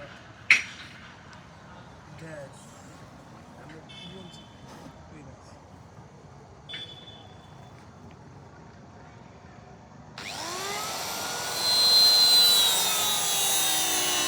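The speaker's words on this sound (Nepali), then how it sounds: "यो चाहिँ हाम्रो ड्रोनको साउन्ड हो गाइज" A drone takes off and hovers close by with a loud, rising, helicopter-like buzz whose whine climbs and sweeps in pitch, after a stretch of quiet outdoor background with a few brief knocks.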